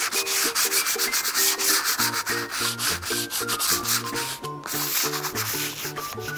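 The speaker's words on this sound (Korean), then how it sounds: "목탄은 삭삭삭 이렇게 소리가 참 좋거든요" A stick of charcoal scratches and rubs across paper in quick repeated strokes while drawing, close and fairly quiet, with a rhythmic rasping texture and no talk over it.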